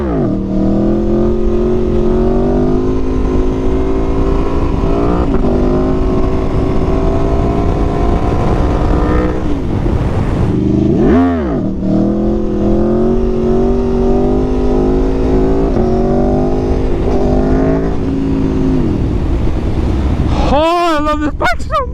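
A loud Aprilia Tuono 1100RR motorcycle engine revs through gears, with repeated rising pitch sweeps and brief throttle blips, continuous and close throughout.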